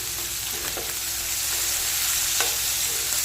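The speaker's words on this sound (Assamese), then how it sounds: "এতিয়া মাছ ভজা তেলখিনিতে মই পিঁয়াজ দি দিম" Onions sizzle in hot oil left from frying fish, a steady bright crackle with a few scraping stirs of a utensil against the pan, close and continuous.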